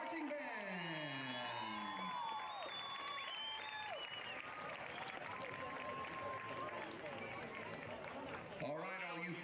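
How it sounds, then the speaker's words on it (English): A stadium crowd at a high school football game applauds and cheers steadily for a high school marching band, with whoops rising from the stands over an announcer's voice on the PA system. "give them one more round of applause"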